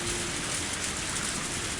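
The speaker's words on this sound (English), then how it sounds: "I didn't think it would rain so hard" Heavy rain in the visual novel game Higurashi, a steady, dense hiss of downpour that stays even and unbroken throughout, with no voices over it.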